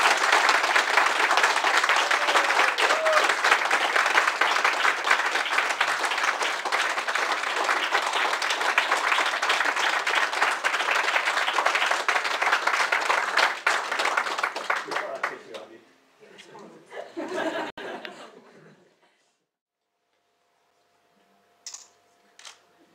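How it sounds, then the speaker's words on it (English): Guests at a civil partnership ceremony break into loud, sustained applause for the couple, lasting about fifteen seconds before fading into quieter murmurs and a few faint clicks. "I'd now like you to give a huge round of applause to Jane and Rachel."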